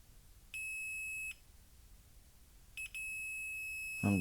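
Multimeter continuity tester on an electronic control board beeps with a steady high tone, first one tone of about a second, then a short chirp and a longer tone, clear and close in a quiet room with no talk.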